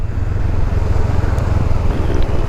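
A Honda Rebel 500 motorcycle cruises along a highway, a constant low engine and wind rumble droning loudly and evenly throughout, with no voices over it.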